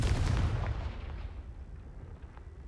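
A Confringo blasting spell explodes in Hogwarts Legacy, a single heavy, booming blast with a rumbling low tail that fades over a few seconds, no talk.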